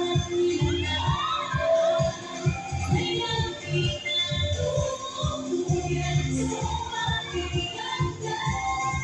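Fiesta crowd at Macaria Homes cheering and shouting, a lively mix of voices and whoops with some clapping, close and continuous throughout.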